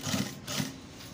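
A tailor's sewing machine stitches fabric in two short bursts of whirring motor and needle rattle, close and fairly quiet, with no talk.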